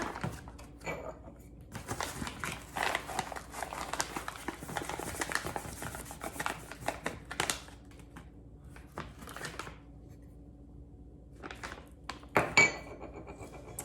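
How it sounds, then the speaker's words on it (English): Brownie batter sweetened with allulose being stirred in a bowl, with steady scraping and clinking of a utensil against the bowl, close and moderately loud, continuing for most of the stretch before a few sharper knocks near the end. "I'm just gonna mix that up really well"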